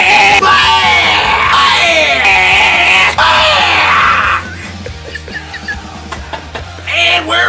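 A person lets out a loud, sustained scream that goes on for several seconds at close range, then breaks off into chatter and laughter in a room.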